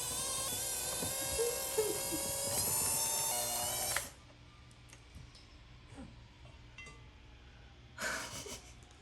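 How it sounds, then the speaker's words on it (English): An electric hand mixer whirs loudly for about four seconds while blending oil and cocoa powder, then cuts off, leaving quiet room noise before a brief second burst of mixing near the end. "I need to mix this with a hand mixer"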